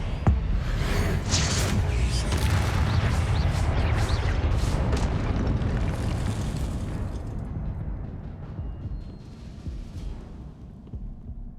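Confringo blast spell explosions in the Hogwarts Legacy video game: a loud, sustained roar of booming bursts that fades gradually over the final seconds.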